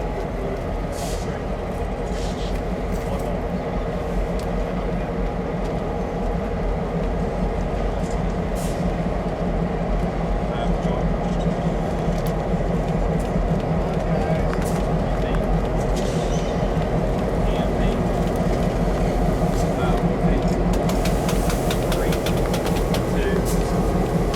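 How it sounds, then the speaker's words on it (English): KCS locomotives in a holiday express train moving up to couple onto the business train, a steady loud diesel rumble and droning engine hum that stays constant and near throughout. "KCS 1, 2, and 3 would move up to attach to the business train"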